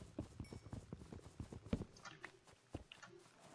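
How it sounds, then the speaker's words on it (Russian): Footsteps on leaves in Minecraft, a quick run of soft rhythmic crunching steps at a brisk walking pace, fairly close, with a few scattered quieter game sounds toward the end. "Звук ходьбы другой, да, вот этот? Слышите? Ну по листьям, типа."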